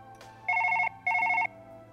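In Surgeon Simulator 2013, a telephone rings twice with an electronic trill, two crisp bursts of about half a second each separated by a short gap over a quiet background hum.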